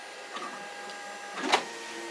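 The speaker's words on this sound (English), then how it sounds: "This printer sounds awesome when it prints." XYZprinting Da Vinci 1.0 3D printer running a print job with concentric fill, a quiet steady whir with faint tonal motor whines and a couple of brief louder mechanical bursts near the end.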